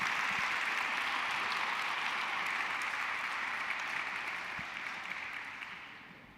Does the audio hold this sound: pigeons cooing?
no